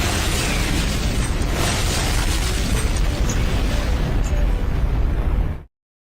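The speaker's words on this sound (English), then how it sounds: "Get you an explosion here." A loud, sustained explosion sound effect: a broad rumbling blast that roars steadily for about five and a half seconds before cutting off abruptly into silence.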